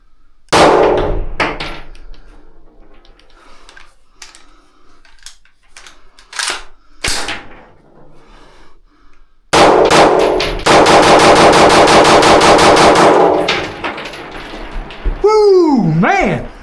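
5.56 rifle fired through Zer0 and Sons muzzle devices outdoors, loud sharp reports with a long rapid burst near the end, plus metallic clanks and people talking between strings of shots.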